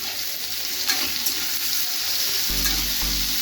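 Onions with a little salt fry in a pan for Bengali mutton kosha, giving a steady, close sizzle with a brief stir, and a low hum joins in near the end.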